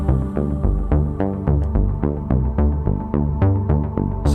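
Relaxing electronic evening song with a Jupiter synth bass plays in its original mix, a steady pulsing beat with regular rhythmic hits under sustained tonal layers, loud and clear with no voices.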